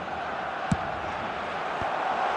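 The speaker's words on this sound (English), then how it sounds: "Well, that's the response the crowd were looking for, Peter, and it's applause all round us here." Stadium crowd in the eFootball soccer video game roars and applauds in a steady, dense wash of cheering with a single brief whoop, heard without commentary.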